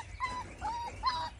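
Puppies whimper in short, thin, high-pitched whines, three brief cries in quick succession, close by over a low background rumble with no talk.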